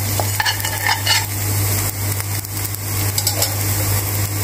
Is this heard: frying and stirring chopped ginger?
yes